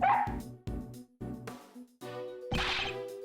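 Dog barking in the Ace Attorney Investigations video game: a run of short, loud yips and bow-wows in quick succession, close and clear, with no talking over them.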